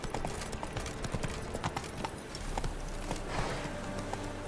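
Hooves of the horse Roach in The Witcher 3 clatter in a quick, even galloping rhythm over a dense game ambience, close and fairly loud.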